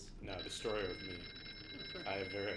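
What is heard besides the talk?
telephone ringing in the video game Here They Lie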